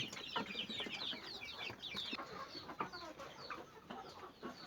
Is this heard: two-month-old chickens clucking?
yes